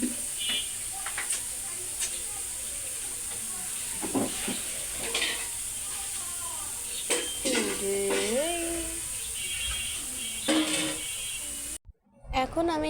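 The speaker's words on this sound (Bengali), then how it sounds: "এখন ওই তেলের ভিতর আমি কালো জিরে ফোড়ন দিয়ে দিলাম। তারপর আমি এখানে আলুগুলো ভাজতে দিয়ে দেবো।" Thinly sliced potatoes sizzle in hot oil seasoned with black cumin, a steady hiss under scattered clinks and scrapes of stirring, with a brief cutout near the end.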